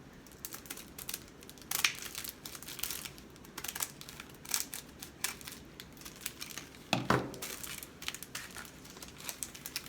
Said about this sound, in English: I'm going to take the adhesive. Just cut this right open.